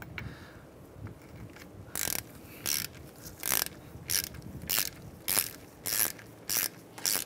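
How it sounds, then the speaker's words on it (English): A hand ratchet tightens the bottom brake caliper bolt on a Mazda CX-9. Crisp, close clicking comes in a regular run of short bursts over a quiet background. "So on our bottom caliper bolt here, I'm going to tighten that down."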